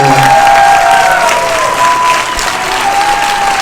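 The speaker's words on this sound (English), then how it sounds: "So please give a round of applause to the cast and filmmakers of the film we just saw." Sustained, dense applause from a film-screening audience honoring the cast and filmmakers, loud and steady throughout with faint crowd murmur and a whistle-like tone drifting above.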